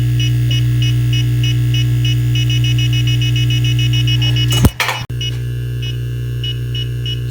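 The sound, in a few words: EMF meter beeping near Teslas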